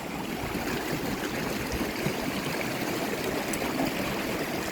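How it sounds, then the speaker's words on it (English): Water stream flowing around both sides of a big rock makes a steady, close rushing and gurgling that stays even throughout, with no voices. "Notice how the water's flowing on both sides of this big rock?"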